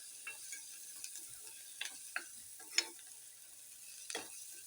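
Cauliflower pieces are dry-roasted in a pan for a Marathi-style vegetable dish, with a soft steady sizzle under repeated scraping stirs of a spoon against the pan, close by and with no talking.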